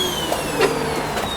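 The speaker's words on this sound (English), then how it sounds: "I'm just vacuuming." Vacuum cleaner running steadily inside a store, a continuous mid-level motor drone with a small swell partway through and no talk over it.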